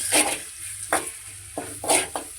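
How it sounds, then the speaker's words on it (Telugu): Ginger frying in hot oil for a fish curry gives short sizzling bursts as it is stirred, about five quick crackling surges over a low background hiss. "అల్లం వేసి కొంచెం అంత నూనెలో పోతే"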